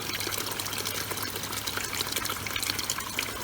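A floating tap water feature runs on a larger, higher-pressure pump, its water pouring and splashing steadily into the pot below in a loud, continuous gushing rush with no talk.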